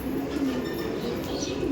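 An aggressive Kalanka pigeon coos insistently while feeding its young in a loft, a steady low burbling call running close and continuous with faint chirps above.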